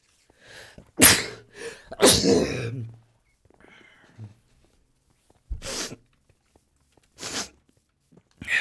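A person sneezes loudly and close by, with two sharp bursts near the start. Softer sniffs and breathy noises follow at intervals through the quiet.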